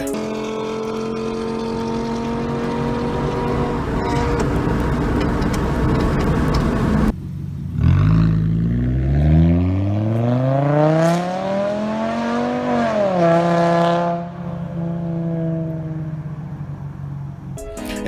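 A Volkswagen Jetta SportWagen's 2.5-liter naturally aspirated 170-horsepower engine revs up and climbs in pitch, then settles back down, loud and steady throughout.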